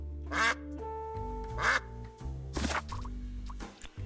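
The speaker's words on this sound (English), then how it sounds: "Quack at them." Cartoonish duck quacks from the video game Duck Detective, three loud bursts over a steady background music bed, with no talking.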